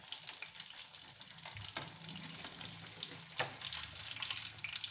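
Sweet modak dumplings frying in hot oil, a soft steady sizzle broken by a few clinks and scrapes as the pieces are turned over in the pan, fairly quiet and with no talking.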